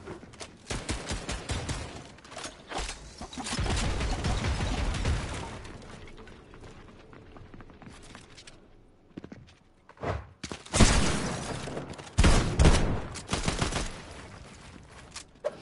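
Gunfire in Fortnite ranked play, with bursts of shots and rapid fusillades in loud clustered volleys, a sniper rifle crack among them, separated by brief lulls and footsteps.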